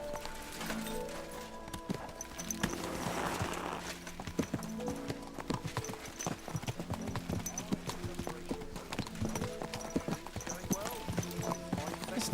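Horse hooves clip-clop steadily in the medieval role-playing game Kingdom Come: Deliverance II as riders set off, with a rapid even hoof rhythm under ongoing background music, ambience and speech.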